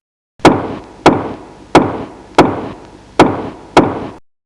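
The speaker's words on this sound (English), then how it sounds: "He banged on the door with clenched fists" Six heavy, evenly spaced bangs of clenched fists on a door, loud and close, each blow ringing briefly before the next.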